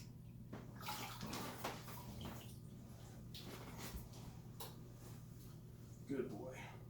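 A large reticulated python soaking in a tub of water, with soft intermittent splashes and sloshes, quiet and close, while someone talks over them and a steady low hum runs underneath.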